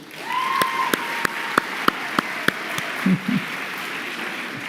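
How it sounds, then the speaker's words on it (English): A few scattered, separate claps ring out at a steady pace against a quiet room hum at a school graduation ceremony, with a brief low murmur near the end. "we'll clap for her"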